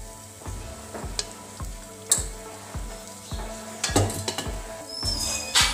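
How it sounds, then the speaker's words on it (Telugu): Medium-sized chopped onions fry in two spoons of oil inside a pressure cooker for village-style boti curry, with a steady sizzle broken by regular, sharp stirring scrapes and clanks close by. "రెండు స్పూన్ల ఆయిల్ వేసుకున్నాక నేను కొంచెం పెద్ద మీడియం సైజ్గా తరిగిన ఉల్లిపాయల ముక్కలు వేసుకొని వేయించుకుంటున్నాను"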